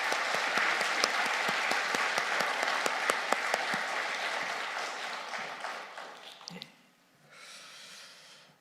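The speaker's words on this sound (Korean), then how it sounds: "우리 다시 한번 크게 박수 한번 해드릴까요?" A church congregation bursts into loud, dense applause that fades out after about six seconds, leaving quiet room tone.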